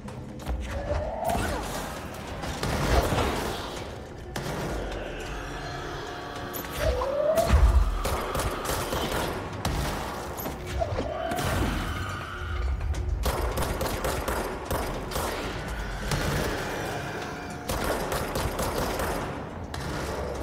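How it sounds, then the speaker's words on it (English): Combat in the video game Control plays as loud, dense rapid gunfire with heavy thuds and explosive bursts as enemies blow up, over a constant roar of game noise. "Guys explode when they get too close."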